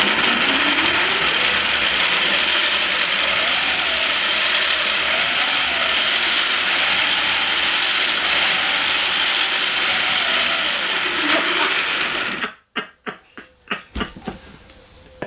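Small wind turbine with 1960s-style gearing spins a tiny motor, producing a loud, steady whirring drone with rising and falling pitch for about twelve seconds, then cutting off into a few brief clicks and clatters as it slows.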